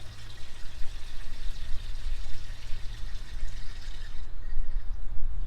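Fresh water pours into a vase on a fishpond until it brims and overflows, a close, fluctuating splashing and gurgling fill with no talking.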